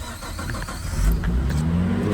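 A Nissan car engine with a Nismo cluster cranks and catches, a low rumble swelling at about one second and then holding a steady, close running note.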